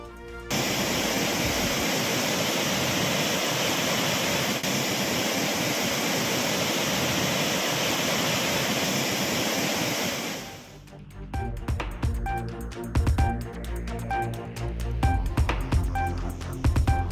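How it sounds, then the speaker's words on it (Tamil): Heavy flood waters of the Cauvery river roar at Hogenakkal falls, a loud, steady broadband rush lasting about ten seconds before giving way to other sounds. "ஒகேனக்கல் காவிரி ஆற்றில் கடும் வெள்ளப்பெருக்கு."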